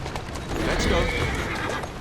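A horse in the video game Assassin's Creed Syndicate gives a loud, close whinny along with clip-clopping hooves, a brief burst over about two seconds.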